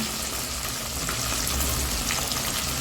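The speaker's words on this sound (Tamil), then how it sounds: "கருவேப்பிலை, சின்ன வெங்காயம், பூண்டு," Curry leaves, shallots and garlic dropped into hot oil, with a loud, dense, continuous sizzle and crackle close by and no one speaking.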